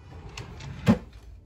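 A desk drawer slides open with a soft rolling rumble and a brief thump near the end, quiet and close, with no talking.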